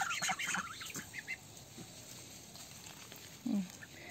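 Geese honk on a small farm where mulberries are grown and chickens roam, a few scattered calls near the start and one lower honk later, faint against quiet outdoor background noise.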